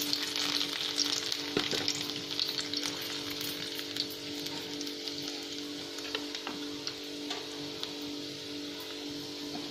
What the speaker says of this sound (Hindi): एक कढ़ाई में हम तेल गरम करेंगे, उसमें जो लहसुन बारीक कटा हुआ है वो डाल देंगे।